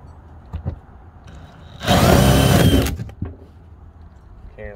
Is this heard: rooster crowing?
no